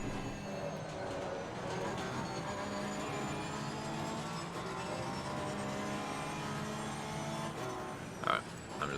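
Race car engine in Assetto Corsa Competizione, a sustained high-pitched drone holding a steady tone at moderate level, with a brief bump near the end.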